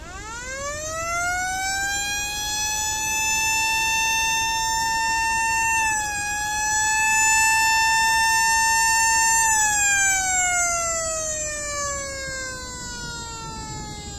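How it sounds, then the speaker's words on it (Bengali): A river passenger launch sounds its own horn to clear the way: one long, loud, close wailing blast that swells, holds steady, dips slightly, then slowly falls in pitch, with no talk over it. "এই যে ও করে হরেন বাজাইলো না, এটা কিন্তু লঞ্চে বাজাইলো।"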